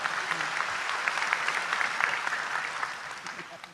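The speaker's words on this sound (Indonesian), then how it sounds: "Tepuk tangan untuk beliau" Applause at an Islamic religious talk, a dense, steady round of clapping from a seated audience, moderately loud, with a voice faintly audible underneath.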